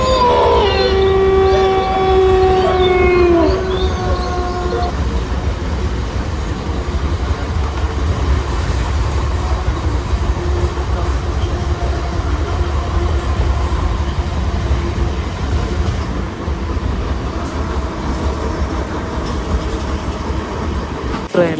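A Rajahmundry–Vijayawada MEMU passenger train runs fast, its carriage rumbling loudly and steadily throughout, with a long two-tone horn sounding over the first few seconds before the constant clatter and roar carry on alone.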